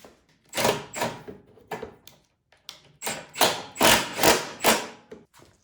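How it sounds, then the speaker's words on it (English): A metal belt cover is fitted back onto an older Craftsman snowblower with a series of close, loud knocks and thuds, some in quick pairs, separated by brief pauses. "we're going to put the cover back on for the belts"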